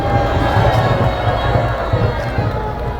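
A large outdoor crowd at a March 29, 2025 Gwanghwamun rally gives applause and cheers, a loud, continuous roar of massed noise over a low droning hum.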